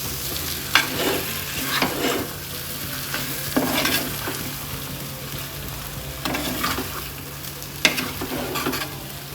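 Ground masala and sautéed shallots for a coconut-free fish curry are stirred in a frying pan, making a steady close sizzle. Rhythmic scraping strokes of the spoon recur every second or two, and no one speaks.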